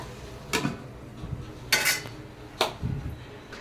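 A pan lid and pot are handled while eggs cook, with a few separate metallic clanks and clinks close by, the sharpest near the middle, spaced by quiet stovetop background and no talking.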